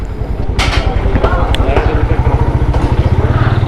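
A motorcycle engine idles and chugs close by with a steady throbbing rhythm as the bike is parked on a Fort Munro hill road, with a few clattering thumps and someone speaking over it.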